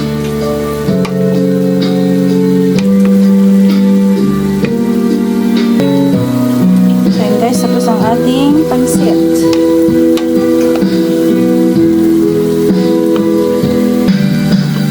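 Pancit noodles are stirred in a hot pan, giving a steady sizzle of frying with scraping and clinking of the utensil against the pan. Quiet music plays underneath throughout.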